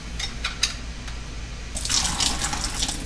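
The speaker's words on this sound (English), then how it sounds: "So just pour a couple times out of the filtered water in there." Filtered water poured into a pot of shrimp pea noodles, a steady splashing pour rising in the second half after a few faint drips and clinks, close and moderately loud.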